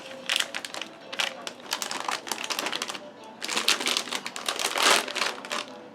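A plastic bag crinkles and rustles while a ROG B550 motherboard is unboxed, giving dense, crackling bursts in two main stretches with brief pauses between, fairly loud and close, with no talking.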